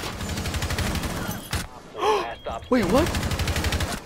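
Rapid gunfire bursts in Rainbow Six Siege, a Vigil firing at Bandit, crackle loudly and repeatedly, pausing briefly while a player reacts in surprise before the shooting resumes.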